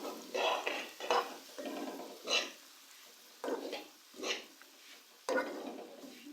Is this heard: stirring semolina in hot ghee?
yes